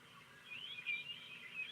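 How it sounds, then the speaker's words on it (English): Birdsong carries faintly in the background outdoors, a thin, continuous layer of small chirps and tweets with no talking over it. "As you can hear, got some birds in the background."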